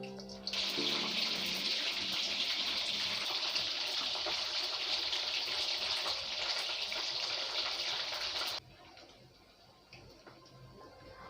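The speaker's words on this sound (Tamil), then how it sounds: "இப்போ நம்ம மிக்ஸ் பண்ணி வச்ச மீல் மேக்கரை ஒன்றா எண்ணெய்க்குள்ளே போட்டு பொரிச்சு எடுத்துடலாம்." Soya chunks (meal maker) for soya 65 deep-frying in hot oil give a steady, bright sizzling hiss for about eight seconds that then cuts off abruptly, leaving only faint background.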